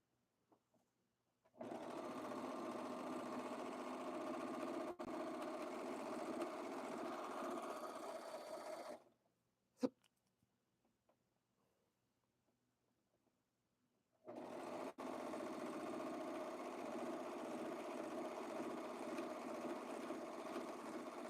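A sewing machine stitches pants with a needle due for changing, running in two long steady bursts of fast, even whirring with a quiet pause between them and a single sharp click in that pause.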